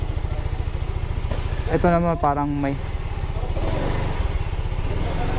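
A SYM Maxsym GT 508 scooter engine idles with a steady low putter throughout, while a person speaks briefly over it partway through.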